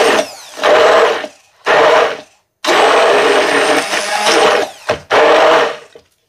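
A blender whirs loudly in four separate bursts, with short pauses between them, blending Caesar dressing with grated parmesan stirred in.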